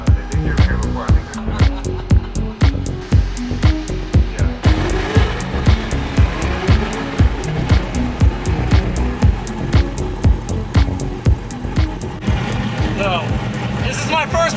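A Mazda Miata race car at Englishtown Raceway, with loud rhythmic engine pulses and rapid rattling bursts close by as it makes a drag pass, along with some voice.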